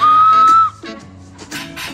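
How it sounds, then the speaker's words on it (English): Small plastic whistle from a Christmas cracker blown once in a steady, shrill, piercing tone for about half a second, close up, followed by faint indoor rustling. "A whistle, technically."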